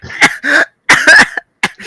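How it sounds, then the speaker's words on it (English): Coughing straight into a microphone during an online group call, several sharp, loud, close bursts in quick succession with brief gaps between them. "Please mute yourself if you're just gonna cough down the mic"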